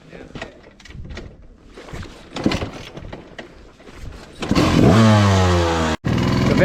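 A 1995 KTM 300 two-stroke dirt bike in Capitol Forest, heard first through a stretch of talk and handling noise, then a loud engine bursting into revving near the end with rising pitch and a brief cut before resuming.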